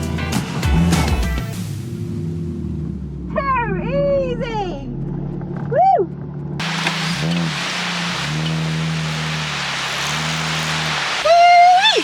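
A two-wheel drive van drives across sand on an Australian beach near Esperance, its engine a low rumble mixed with wind and surf, while people whoop and shout excitedly over it.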